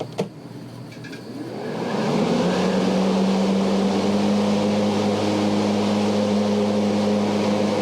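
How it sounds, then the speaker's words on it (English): A Ryobi 46-inch 80V battery lawn tractor has its blades engaged at the lowest speed, and the whir spins up over about two seconds into a loud, steady, close hum that holds to the end. "So let's put it on the lowest blade speed, and I'm going to go ahead and engage it"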